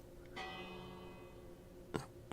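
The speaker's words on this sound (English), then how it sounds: "If I ring this bell," A bell in the video game Minecraft rings once with a sustained, shimmering tone that slowly fades, followed by a couple of faint clicks, heard quietly with no speech.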